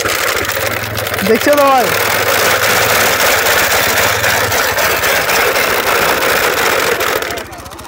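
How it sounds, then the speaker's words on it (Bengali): A bicycle with plastic bottles fixed to it buzzes like a small engine as it is ridden in Purulia, a loud continuous rattling drone that fades near the end, with people talking over it. "সাইকেলটা একটু চালাও, দারুণ আওয়াজ করছে"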